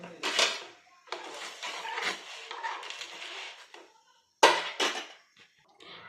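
A pair of metal anklets is dropped into a pot of boiling water, with clattering metallic clanks at the start and another burst of clinks and rattling a few seconds later.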